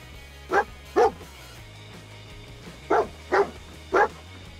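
A dog companion in the video game Fallout 4 barks five times, in a pair and then a quick group of three. The sharp barks are loud and close over a low, steady game hum.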